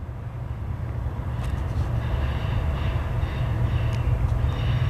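Norfolk Southern mixed freight train rolling past in Marion, Ohio, a steady low rumble of wagons with faint metallic clicks and squeals, fairly close and continuous with no talk.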